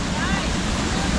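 Ice-cold glacier water pours down Red Rock Falls near Bullhead Lake, a steady broadband rush with no breaks, close and fairly loud.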